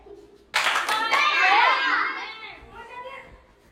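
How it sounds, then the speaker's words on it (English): Children clapping on command during a classroom listening game, a sudden burst of claps followed by excited kids' voices and chatter that gradually dies down. "Clap."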